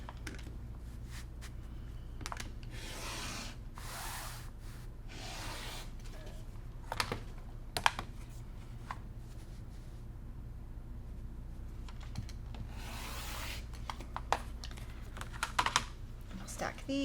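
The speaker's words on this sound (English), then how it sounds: "So now I'm going to just cut on those lines." Fabric being cut along pressed crease lines, in short crisp snipping clicks spread through the clip over a low steady hum, with quiet background sounds between cuts.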